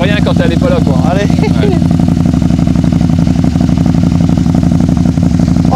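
A motorcycle adapted for a paraplegic rider idles loudly and steadily up close through an exhaust that may not be road-legal, with a low, even throbbing throughout and a voice talking over it at the start.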